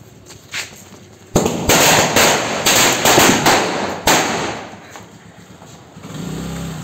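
Diwali firecrackers burst in a loud, rapid crackling run lasting several seconds, with sharp individual bangs near the start and middle, then fading to a low rumble.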